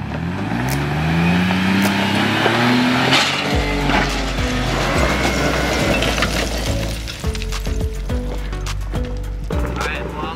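2022 Ford Bronco driving at high speed on a dirt trail: engine revving up through the gears with a rising whine, then a steady loud drone and rattling impacts, close to the microphone.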